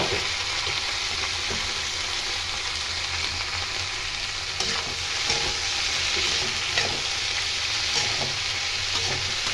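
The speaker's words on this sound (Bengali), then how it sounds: "বাকি সবজিগুলো দিয়ে দেবো, টমেটো, গাজর, বিন আর কড়াইশুঁটি সব দিয়ে দেবো একসঙ্গে আর ভালো করে ভেজে নেব" Tomato, carrot, beans and peas fry together in a pan with a loud, continuous sizzle and steady stirring scrapes running through the whole stretch, close up and with no voices.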